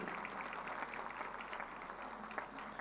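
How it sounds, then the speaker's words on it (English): Audience applause at Manthan Deaf Expo 22, a defence event with the chief guest just announced, heard as faint, even, continuous clapping from a distant crowd. "Let's have a round of applause."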